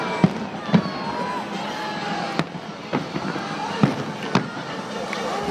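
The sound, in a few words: fireworks exploding in Detroit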